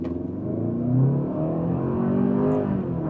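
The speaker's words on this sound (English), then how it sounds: "I have it in sport mode. I'm gonna see how it feels like when we accelerate from a stop." A 2027 Kia Telluride in sport mode accelerates from a stop, its engine rising in pitch with a smooth, rumbling surge heard from inside the cabin.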